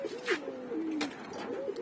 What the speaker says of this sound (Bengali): আর এই হচ্ছে আমার ফ্লাইং কবুতরগুলো